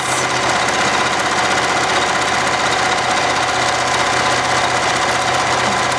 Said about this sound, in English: I'm gonna run the stitching down both sides